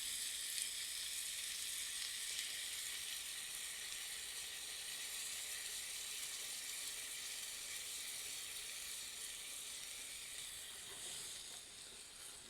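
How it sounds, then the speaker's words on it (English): Coconut milk poured into a sizzling seafood stew on an outdoor cooking setup gives a steady, loud frying sizzle and hiss that holds for the whole stretch, with no talk over it. "Now I'm going to add the coconut milk."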